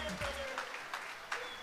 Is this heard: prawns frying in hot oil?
no